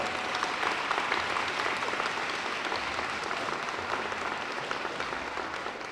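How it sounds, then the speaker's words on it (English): A large audience claps steadily at a middle school dedication ceremony, with dense, sustained applause filling the room at an even volume for the whole stretch, and no voices rising above it. "let's give our parents a big round of applause as well"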